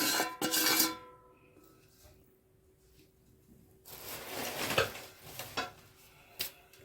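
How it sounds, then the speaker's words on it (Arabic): Tea biscuit dough ingredients are stirred in a bowl, with scraping and clinking of a utensil against the bowl in uneven bursts, close and fairly loud, with no talking. "نقلب"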